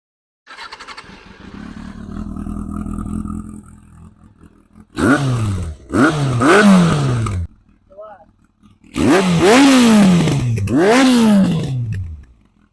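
A Yamaha R1 sport motorcycle with an aftermarket exhaust idles, then is revved hard in several sharp bursts, the exhaust note climbing and dropping with each loud, close blip of the throttle.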